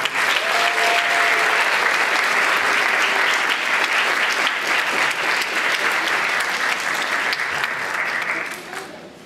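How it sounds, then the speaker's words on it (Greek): Audience in a hall giving a performer sustained applause at a cultural music event, dense clapping that runs strongly for several seconds before gradually thinning out. "Και θα ήθελα άλλο ένα δυνατό χειροκρότημα για την κυρία Γκέρι Αρμονοχερούσα"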